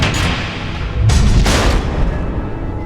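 Missiles explode in the Batman Telltale Season 2 video game as loud, continuous rumbling booms with blasts swelling about a second in and again half a second later, then tailing off.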